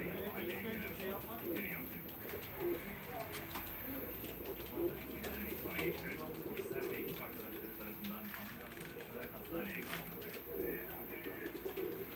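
Pigeons cooing at a live pigeon auction, soft repeated coos under a steady murmur of people talking nearby in a busy indoor space.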